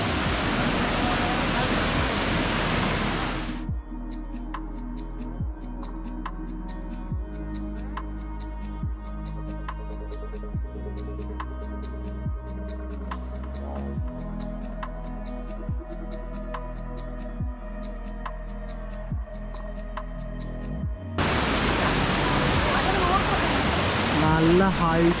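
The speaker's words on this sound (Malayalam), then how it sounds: "നല്ല ഹൈറ്റിൽ നിന്ന് വെള്ളം താഴേക്ക് വീഴുന്നതാണ് കേട്ടോ" A large waterfall in Kerala drops water from a great height, its dense roaring wash loud at the start and end and muffled in the middle, where a regular soft tapping and tonal hum sit over the continuous rush.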